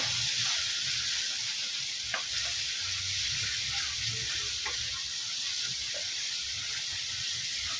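Squid frying in a pan until its water dries off, a steady moderate hiss and sizzle with faint occasional pops throughout.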